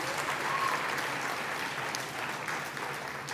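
Audience applause for children at a school elocution contest, a broad, even wash of many hands clapping heard from a distance, steady and unbroken from start to end.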